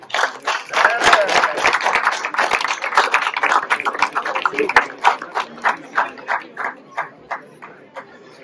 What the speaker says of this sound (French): Maintenant, c'est moi qui vous applaudis.